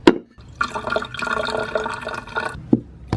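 Frothy bulletproof coffee pours from a blender jug into a pink cup, a close gurgling stream running between a couple of sharp clinks of the containers.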